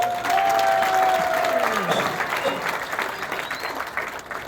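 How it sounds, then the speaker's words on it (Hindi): A seminar audience claps in a dense burst that starts strong and gradually thins and fades, with a voice briefly heard over the early part of the applause. "जोरदार तालियां"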